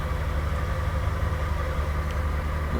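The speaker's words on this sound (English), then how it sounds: "Engine shutting down." The MV Alfred ferry's engine runs as a steady, heavy low drone with a dense mid-range hum, close and unbroken, with no clear winding down across the short stretch.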